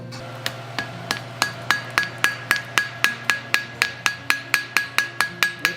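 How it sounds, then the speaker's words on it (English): Blacksmith forge-welds two fluxed steel pieces at welding heat, striking them with a hammer on an anvil. About twenty evenly spaced blows ring out, loud and close, each with a short metallic ring. "then try to bring them out as one unit and weld it together"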